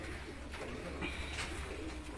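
A pigeon coos softly a few times, low rounded calls in a quiet setting, faint and unaccompanied by speech.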